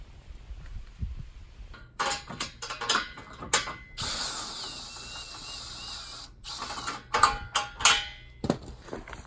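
Ratcheting and clicking of a wrench tightening base plate bolts on a 2011 Chevrolet Camaro LS for a Blue Ox tow setup, several short bursts of mechanical clatter separated by pauses.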